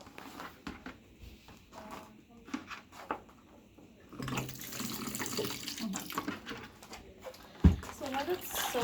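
A sink tap runs into a basin used to soak EEG cap electrodes, the water starting partway through as a steady splashing rush, with a person talking quietly and a brief clunk near the end.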